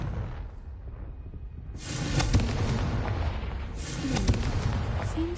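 A Confringo fire spell from Hogwarts Legacy bursts into a loud, rumbling explosion that swells twice with crackling debris, heard alone without speech.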